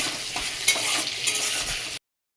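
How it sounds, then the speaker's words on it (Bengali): Oil crackles and sizzles steadily as hilsa fish fat fries, with a couple of brief stirring clinks, then the sound stops abruptly. "ইলিশ মাছের তেলটা ভালো করে ভেজে নিচ্ছি"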